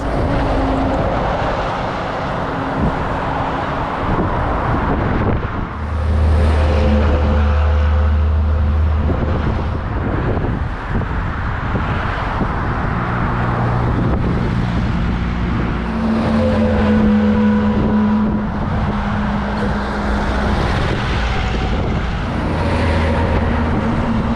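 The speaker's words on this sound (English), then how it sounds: "as we get closer to the big city, the traffic gets very intense" Dense road traffic on the approach into Almaty, Kazakhstan, with a steady wash of engine and tyre noise, low rumbling vehicles passing nearby and a drone of heavy engines throughout.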